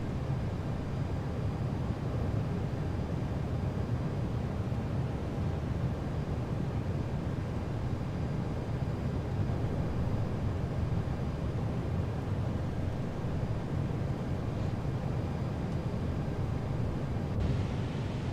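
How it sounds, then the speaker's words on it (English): Idling engines of a FlightFactor 757 in the X-Plane 12 flight simulator give a low, steady broadband rumble and hiss, quiet and unchanging for the whole stretch with no talking. "This aircraft is really quiet with this sound pack because we're basically idle engines"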